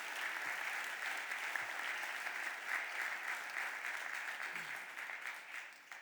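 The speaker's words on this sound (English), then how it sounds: "Please give Michael Newmis and Giselle Jones a round of applause." Steady applause from an audience at a city council budget address in Philadelphia, a dense, even wash of clapping that holds at one level, fairly distant, with no talk over it.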